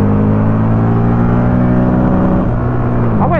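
Buell XB9S roadster with a Harley-derived V-twin engine runs at steady, loud low rumble, close up, with a brief rise in pitch near the end.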